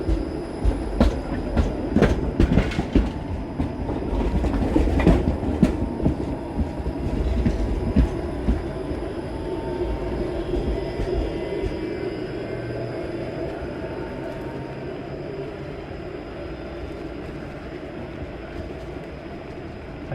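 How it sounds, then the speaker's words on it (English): A Toronto streetcar on Queen Street East in the Beaches creeps slowly through track switches at an intersection, with rattling wheel clatter and clicks loud at first, then fading into a steady rumble. "that streetcar has to take it really gingerly through those intersections"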